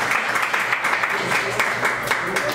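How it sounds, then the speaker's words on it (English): A podcast audience gives a short burst of steady applause, dense clapping filling the whole clip at moderate loudness, with faint voices mixed in. "I want to give you a good round of applause for RecordSetter"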